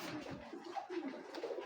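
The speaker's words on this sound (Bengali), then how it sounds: "এটা একটা সাপচিলা পেয়ার কবুতর।" A pair of Sapchila pigeons coo softly up close, their low, rolling calls repeating in short phrases against a faint background.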